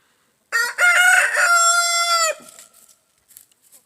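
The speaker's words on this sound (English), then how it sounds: "you always hear my roosters" A single loud, close rooster crow, long and drawn out, followed by a few faint clucks.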